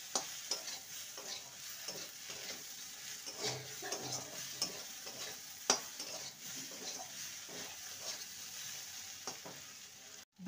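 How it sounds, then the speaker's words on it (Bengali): Okra fried dhaba style on high heat in a pan, a quiet steady sizzle with rhythmic stirring scrapes and occasional utensil taps running on without pause. "2 মিনিট হাইতে রেখে একটু ভালো করে ভেজে নেব।"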